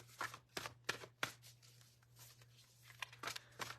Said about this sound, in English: these cards are large, so I shuffle them very sloppily.